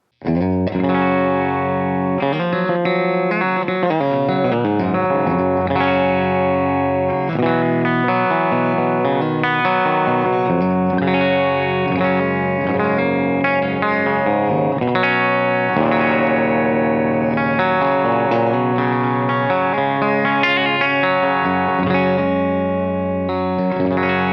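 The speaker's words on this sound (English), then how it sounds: "Let's hear some sounds from the clean channel, starting with our bridge pickup." Electric guitar played through the clean channel of an amp with light built-in reverb, using a Planet Tone Sheminith humbucker in the bridge position; continuous chords and single-note lines ring out loud and alone for the whole stretch.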